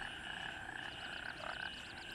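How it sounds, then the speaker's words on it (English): A dense chorus of frogs croaks steadily through the humid Southeast Asian jungle ambience of the video game Gray Zone Warfare, with rhythmic pulsing calls layered over a constant nighttime hum and no voices. "the ambience is so nice. I mean, it's a lot of frogs"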